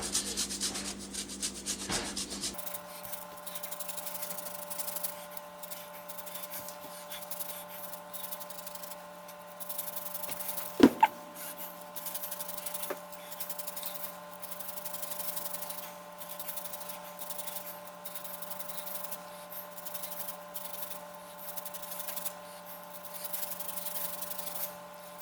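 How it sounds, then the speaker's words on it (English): Lemon zest shaved onto a blueberry lemon dessert, a soft, continuous close rasping over a steady background hum, with a brief knock partway through and no talk. "Next I want to take and shave a little lemon zest on top of this."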